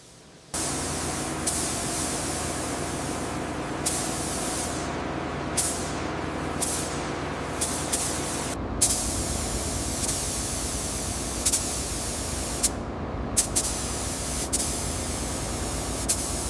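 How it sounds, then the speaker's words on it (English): A paint sprayer coats a ship hull with a steady, loud, broadband hiss that runs almost unbroken, with a few brief ticks and short dips as the spray pauses and restarts. "Adjust pressure on sprayer 3."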